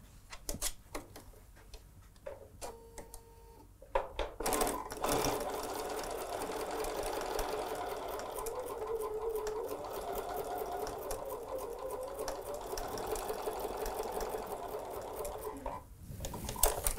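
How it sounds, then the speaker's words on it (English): Sewing machine stitching fabric along a drawn line for star quilt blocks: a few clicks and brief handling noises first, then a steady, close mechanical whirring run of about eleven seconds that stops abruptly, followed by slight rustling. "We'll sew on the drawn line."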